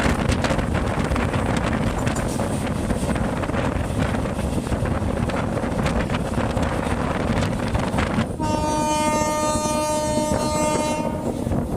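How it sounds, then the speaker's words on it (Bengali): A train rumbles steadily through a run of small stations, heard from on board with heavy wind and rolling wheel noise throughout, and a sustained tonal whine or horn rising over the din near the end. "ট্রেন কিন্তু তার নিজের গতিতে একের পর এক স্টেশন পেরিয়ে চলল।"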